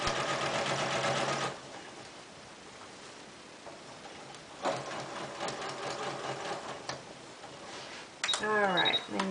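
A sewing machine stitches a straight line along the raw fabric edge at a half-inch seam allowance without backstitching, running in short mechanical bursts with quiet pauses between.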